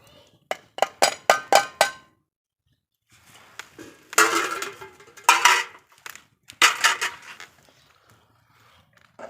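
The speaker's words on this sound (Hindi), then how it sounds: "और चम्मच को हिला लेंगे" A metal spoon stirs chopped onions, tomatoes and tripe in a cooking pot, giving bursts of close clinks and scrapes against the pot with short pauses between them.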